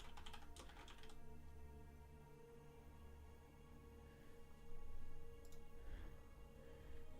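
Keystrokes on a computer keyboard entering a command, quiet and close, in short irregular bursts with pauses between, no voices.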